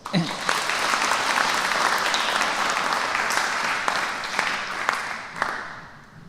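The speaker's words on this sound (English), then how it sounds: "please give our speaker a round of applause" Seminar audience at an international academic event gives a speaker a sustained round of applause, a dense, even wash of many clapping hands that rings out for several seconds, thins near the end, and has a voice briefly heard over it.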